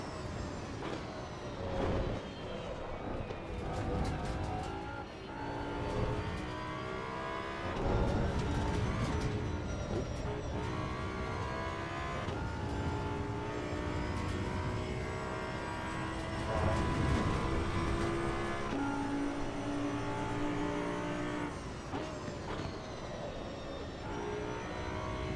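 Racing car in the Assetto Corsa EVO sim, engine revving up and down through repeated gear shifts, loud and sustained with rising and falling pitch throughout.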